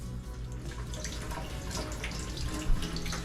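Water runs steadily from a shower tap in a bathroom, a continuous close hiss and splatter that holds at an even level throughout with no talking.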